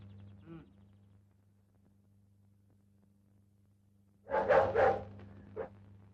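A dog barks somewhere inside a house, a short burst of several loud barks after a long quiet stretch, with a steady low hum running throughout.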